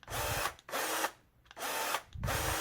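Parkside Performance cordless pruning shears (PPAAS 20-Li A1) whir in loud bursts, running for about half a second at a time with short quiet gaps between four runs, blades set on full opening.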